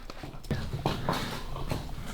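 A horse on a farm makes hoof clops and snorting movement sounds at close range, with a few sharp knocks amid steady low rustling.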